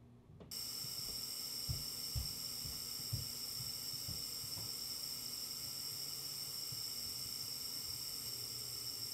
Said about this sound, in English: So this should give us some static sound.